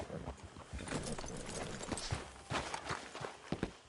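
Hooves clip-clop steadily on hard ground, several horses walking nearby in Red Dead Redemption 2, with a busy, textured game-like ambience around them.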